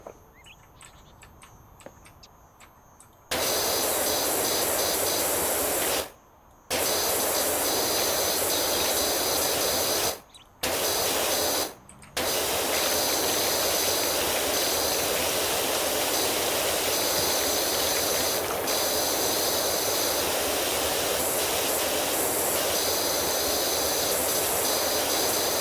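A pressure washer with a yellow nozzle spraying in the game Powerwash Simulator, heard as a loud, steady broadband hiss that runs almost continuously, broken by a few brief stops, after a quieter opening stretch.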